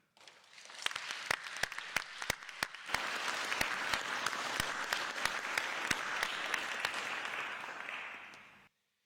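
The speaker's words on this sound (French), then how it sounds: "Je vous félicite et vous pouvez vous applaudir." Applause from the audience at the installation session of the 2020 Wittelsheim municipal council fills the room. It is a dense, steady spread of many hands clapping for about eight seconds, with sharper individual claps standing out, before it cuts off.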